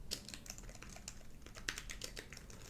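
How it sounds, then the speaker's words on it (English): Close, quiet typing on a computer keyboard in an ASMR trigger recording, a steady run of crisp, irregular key clicks with occasional sharper taps and no talking. "Typing on a keyboard."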